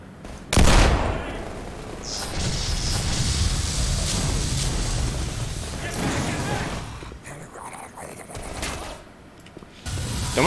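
A BMG turret in the video game Black Mesa opens fire on an enemy, producing a loud sustained stream of rapid gunfire after a sharp initial blast, with a voice talking faintly underneath toward the end.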